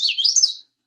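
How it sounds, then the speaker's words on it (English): An ovenbird sings a short, bright chirping phrase, clear and close, in isolation with no other sound around it. "Ovenbird is also a warbler."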